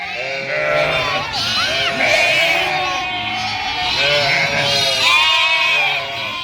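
A flock of sheep in a village bleats loudly and continuously, many overlapping calls close by, with people talking faintly underneath.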